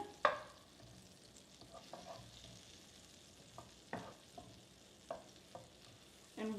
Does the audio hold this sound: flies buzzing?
no